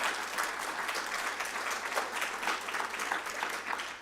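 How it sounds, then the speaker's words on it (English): Steady applause from an audience for the event staff at a youth mental health program, even and sustained throughout with no voices over it. "Let's give them a big round of applause."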